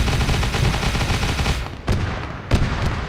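Rapid automatic gunfire pours at a ship in a sci-fi battle game, a dense loud roar of shots that breaks off into a few sharp single bursts near the end.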